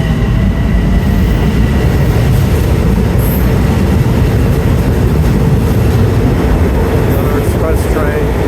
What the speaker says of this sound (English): Another express train.